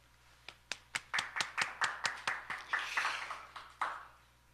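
A thunderous round of applause for the participants of the fourth Gabrielle Roy dictation contest across the Americas, starting with a few separate claps and building into steady crowd clapping that fades out after a final accent.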